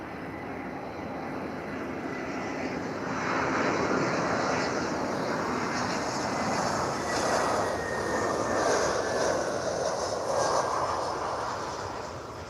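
An airplane lands at Lisbon airport with a steady, broad jet roar that swells slightly around the middle and holds loud and close throughout, with no talking.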